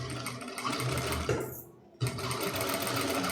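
Sewing machine running steadily as it stitches along the edge of a lining piece for a blouse neckline, a continuous close whir with a brief pause near the middle before resuming.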